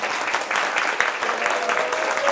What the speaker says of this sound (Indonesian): Tepuk tangannya boleh dong.